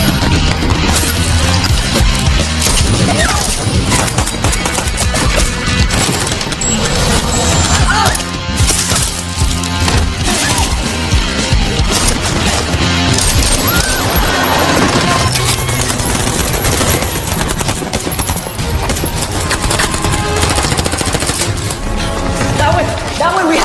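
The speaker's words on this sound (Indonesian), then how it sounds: "terjadilah baku tembak yang sangat brutal" Rapid, dense gunfire from a film battle scene, loud and continuous bursts layered with crashes and a music bed, filling the whole stretch without pause.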